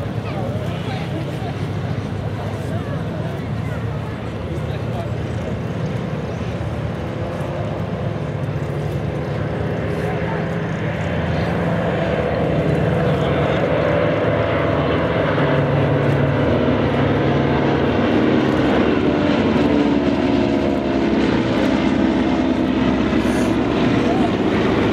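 C-47 Dakota propeller aircraft with invasion stripes running its engines at Duxford airfield, a loud continuous droning roar that swells slightly over time, with someone talking over it.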